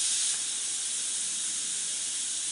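Pressure cooker valve venting steam while chicken noodle soup cooks, a steady loud hiss that holds even for the whole stretch with no break and no voices.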